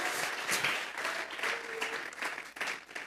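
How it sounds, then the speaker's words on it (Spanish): A church congregation claps together as an applause offering during a Spanish-language service: steady, dense hand clapping from many people filling the room throughout, loud and continuous. "Vamos a regalarle ofrenda de palmas al Dios de la gloria."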